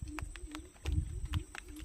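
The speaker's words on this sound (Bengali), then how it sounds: "এই পাখিটা কিন্তু জোয়ারের সময় ডাকে।" A bird calls at high tide at a fishing spot in the Marichjhapi jungle, giving a faint, repeated series of low cooing notes at a steady rhythm, with soft knocks beneath.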